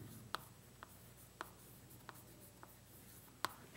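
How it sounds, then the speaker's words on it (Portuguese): Chalk writing on a board in a classroom, heard as several separate short taps and strokes spaced across the clip, faint and fairly close, with no talk. "deixa eu escrever aqui em cima"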